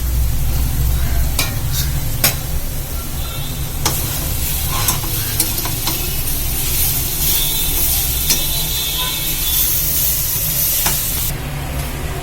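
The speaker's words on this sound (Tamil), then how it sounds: "நம்ம இந்த பக்கம் பூசணிக்காயை வதக்கிடுவோம் நெய் ஊற்றி" Pumpkin pieces sautéing in hot ghee for halwa, a steady close sizzle and crackle with a scraping spoon stirring throughout and occasional sharper clinks against the pan.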